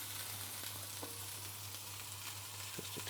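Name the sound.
frying in oil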